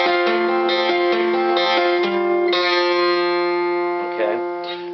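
Short electric guitar phrase, picked notes with smooth slides between pitches, mid-loud and slightly reverberant; no talking.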